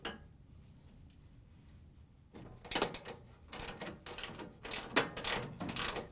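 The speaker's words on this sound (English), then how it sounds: "we can take the 17mm socket with the ratchet and take the nut off" Ratchet and 17mm socket loosening a nut on a shock absorber bolt of a Whirlpool/KitchenAid/Maytag washer, a quiet lull followed by a run of sharp repeated clicking strokes, close and fairly loud.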